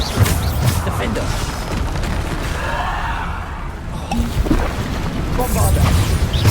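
Magical explosion from the Bombarda spell in Hogwarts Legacy combat, a heavy boom with crashing impacts amid continuous battle noise, while a voice speaks over it.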